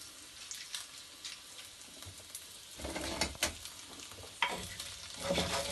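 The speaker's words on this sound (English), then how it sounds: "we're just going to put them all in a hot pan with olive oil and just let them get a tiny bit of colour and just cook down a tiny bit" Vegetables frying in a hot pan with olive oil, a soft steady sizzle that grows denser partway through as the pan is stirred, with several close scraping and clattering knocks.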